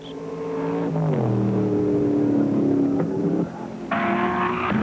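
Shelby Cobra race cars roar at the 1964 Sebring 12 Hours endurance race, a loud sustained engine drone with shifting pitch as cars accelerate and pass, one gear change audible near the end.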